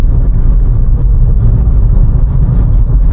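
Heavy trucks roll past on a road at night, heard from inside a moving Kia Sonet LX automatic, a steady loud low rumble of engines and tyres filling the whole stretch with no talk.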